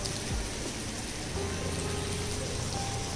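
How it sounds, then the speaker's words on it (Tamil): Light rain falls steadily on a rainy evening, a continuous soft hiss of drops with a faint low hum underneath and no voices. "ஸோ லைட்டாக மழை பெஞ்சிட்டே இருக்கு விடாமல்."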